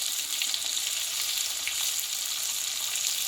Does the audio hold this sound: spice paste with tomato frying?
yes